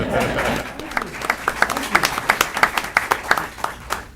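Scattered applause from a meeting audience, individual claps clearly separated in an uneven rhythm, moderately close, with a murmur of voices underneath.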